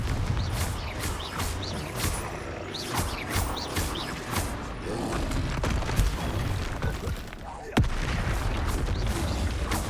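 Confringo blast spell explosions in Hogwarts Legacy, a string of sharp booming bursts over a dense rumbling battle backdrop, with one heavier blast near the end.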